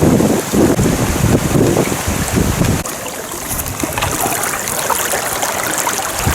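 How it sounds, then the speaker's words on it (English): Rushing floodwater of a swollen river pushing past a person wading against the current, a continuous loud churn and splash with wind buffeting the microphone, the flow easing slightly partway through. "I'm actually wading against considerable force of the river"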